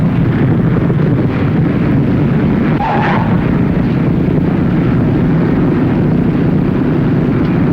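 A fixed-wing airplane lands with power off and full flaps, producing a loud, steady rushing roar of airflow and wind noise throughout, with a brief whine midway and no talking.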